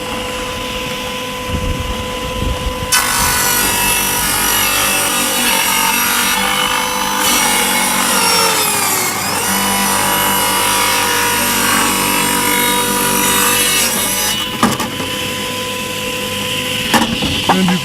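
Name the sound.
Craftsman table saw cutting through wood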